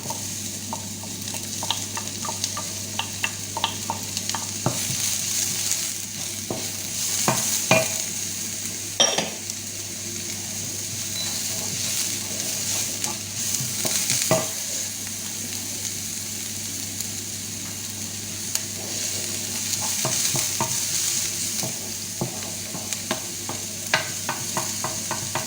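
Onion and garlic fry in a pan with a steady sizzle, while a utensil stirs and scrapes against the pan in irregular clinks and knocks, up close.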